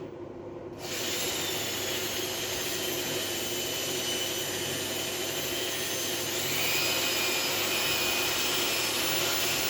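An electric motor powered by an inverter power station (4000/2000 W, 24 V, electric-car battery) spins at low revs with a steady, loud whirring hum and hiss that starts abruptly and then rises slightly partway through.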